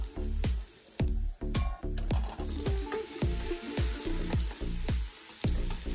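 Lamb ribs fry in a pan with cumin, black pepper, cloves and black cardamom, a steady sizzle broken by repeated sharp scraping stirs in a regular rhythm, close and fairly loud with no talking.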